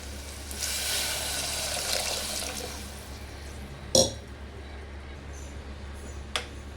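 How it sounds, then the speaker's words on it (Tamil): A vessel of water pours steadily into a pot of tomato rice for a few seconds with a broad rushing hiss, followed by a couple of sharp clinks of a vessel. "ஒரு சொம்பு தண்ணி ஊற்றிட்டு நல்லா கலந்து விட்டுட்டு"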